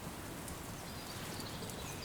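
Steady rain pours down in a film scene, a dense even hiss spread across the whole clip with no break, distant and moderate, no voices over it.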